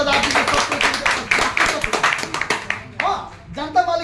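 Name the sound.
audience clapping at a press conference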